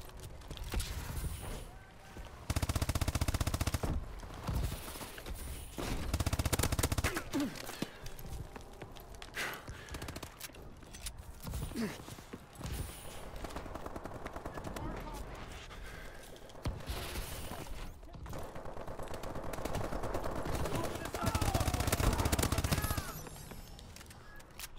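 Gunfire in a Call of Duty: Advanced Warfare team deathmatch, recurring bursts of automatic shots and footsteps amid dense game noise, with a player talking over the action.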